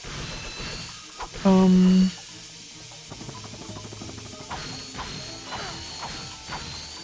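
A door mechanism opens in the game Ratchet & Clank, starting with a loud tonal whir and followed by a run of grinding gear clanks and ratcheting clicks, with game ambience underneath.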